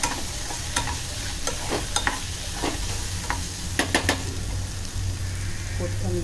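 Clam masala sizzles steadily in a pan with garam masala, Malvani masala, turmeric and coriander, while a spoon scrapes and taps through it in irregular strokes. The frying stays close and even throughout, with a faint voice in the background.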